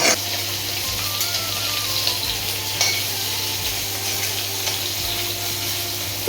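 Fish frying in hot oil in a home kitchen, giving a steady, loud, dense sizzle that continues without a break, with a few faint clinks and a low background hum. No voices.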